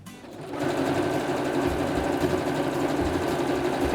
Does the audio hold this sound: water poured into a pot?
no